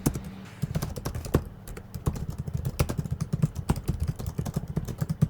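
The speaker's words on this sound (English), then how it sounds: "typing on the keyboard feels pretty tactile, and the keys have a decent amount of travel" Fast typing on the keyboard of a Thunderobot STORM 17 gaming laptop, with dense, irregular tactile key clicks close up and continuous throughout, no talking over them.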